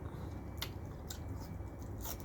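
Someone bites into an Isan sausage made and sold in Sweden, giving a few soft, crisp bite clicks and quiet close-up chewing over a low background hum.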